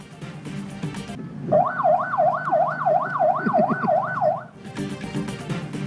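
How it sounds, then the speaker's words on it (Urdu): Police mobile siren in Karachi, a loud wailing two-tone hooter cycling rapidly up and down for about three seconds, set between stretches of background music. "پولیس موبائل کا سائرن ڈانس کے لیے میوزک بن گیا"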